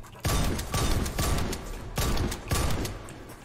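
Shotgun blasts from the video game Warface fire in a rapid series of five or six heavy, booming shots, each followed by a short decaying tail, loud and close.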